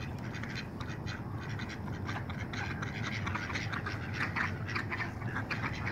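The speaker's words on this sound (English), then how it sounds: "Lots of ducks." Many ducks quack continuously at a moderate distance on a cold, foggy day, a busy overlapping chorus over a steady outdoor hum.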